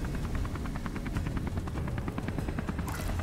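A loud, close helicopter from the video game Beyond: Two Souls thuds with rapid steady rotor beats over a dense engine roar that holds for the whole clip, with no talking.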